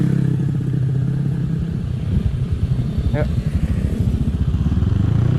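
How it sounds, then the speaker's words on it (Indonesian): A motorcycle engine fires up and settles into a steady chugging idle, close and loud, with a brief voice speaking partway through. "gue mau nyalain motor lu"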